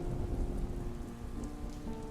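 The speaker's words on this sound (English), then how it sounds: "Rain sounds are just comfy." Steady rain plays continuously in the background, a dense even patter with a low rumbling undertone, alone and without pauses.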